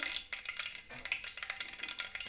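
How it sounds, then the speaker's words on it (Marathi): Mustard seeds popping in hot oil on a wood-fired stove, a dense run of quick, sharp crackles and spits close by, with no voices. "आता राय फटाफट फुटाय पाहिजे बघा असेच नाही ते हे व्हायला पाहिजे असा फाटफाट आवाज यायला पाहिजे"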